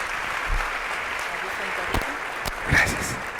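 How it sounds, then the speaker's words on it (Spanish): A church catechesis congress audience applauds to welcome Monsignor Octavio Ruiz Arena, a moderate wash of clapping with a few sharper claps standing out, steady and fairly close, with no talking over it. "brindándole un fuerte aplauso"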